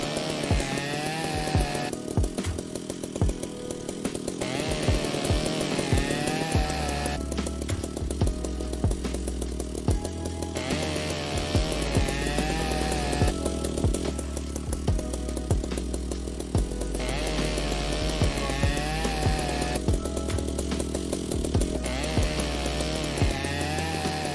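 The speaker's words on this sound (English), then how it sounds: "Angle grinder." Angle grinder cutting through metal in the video game Ship Graveyard Simulator, a loud, steady buzzing whine that runs nearly the whole time in long sustained bursts with brief shifts in pitch, heard alone without talk.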